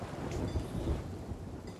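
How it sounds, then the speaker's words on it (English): Thunder from lightning during a storm in the pirate game Sea of Thieves, a brief low rumbling crack over the hiss of rain, fairly loud and close, with no talking. "you almost got struck by lightning"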